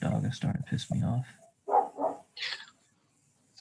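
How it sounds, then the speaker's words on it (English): A neighbor's dog barks a few times in quick bursts, then twice more after a short pause, at a moderate distance and clearly audible in an otherwise quiet room. "Swear that neighbor's dog is starting to piss me off."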